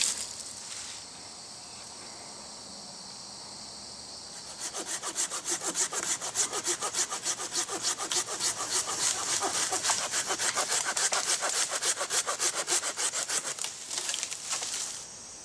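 A hand saw cuts through wood outdoors while a hunter trims a shooting lane in the woods. After a quiet start, a steady run of close, rhythmic rasping strokes goes on for about ten seconds.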